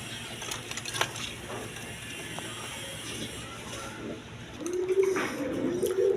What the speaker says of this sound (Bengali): এক পেয়ার আপনার রেশার কবুতর আছে দেখেন